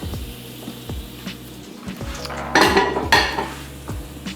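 A utensil scrapes an egg mixture across a cooking pan, producing repeated light taps and then two louder, rougher scraping strokes close by, with no voice over the sounds.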